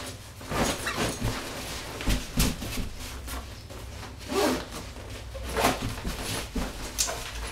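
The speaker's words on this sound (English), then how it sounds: "And then just go ahead and zip the zippers up." Zippers being pulled closed on a bike travel bag, a series of short rasping zips in quick bursts, fairly close with a faint background hum.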